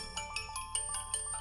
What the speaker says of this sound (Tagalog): Ada umawawag iti cellphone ni Coco